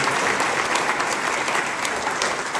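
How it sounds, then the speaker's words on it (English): A rally crowd in Independence applauds military veterans, a loud, dense, continuous burst of clapping from many people with no talking. "Can we give them all a huge round of applause"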